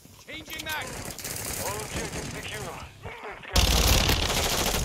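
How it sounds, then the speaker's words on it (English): A Vector submachine gun fires in a video game as a rapid, dense burst near the end, following stretches of gameplay effects and scattered shots. "the fire rate on the vector is nice"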